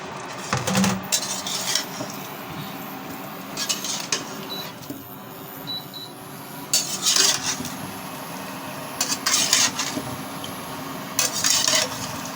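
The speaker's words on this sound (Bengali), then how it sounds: "আমি এখন এই আলু এবং ফুলকপিটা কষিয়ে নিই তাই আমি ঢেলে দিলাম" Potatoes and cauliflower tipped into a pan of fish curry spices and stirred, with repeated metal scrapes and clinks of the spoon against the pan over a soft steady sizzle.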